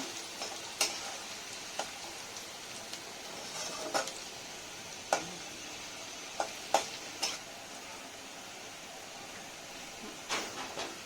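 A utensil scrapes and taps a frying pan every second or so over a soft, continuous sizzle of oil, stirring a peanut tempering for upma.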